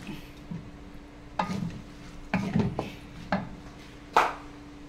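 Spoon or spatula clacking and scraping in a pan as black pancit with squid is stirred, a few distinct knocks spread over a quiet, steady kitchen background with no talking.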